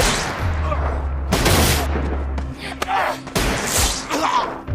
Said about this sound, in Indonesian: Dan akhirnya mereka pun saling tembak.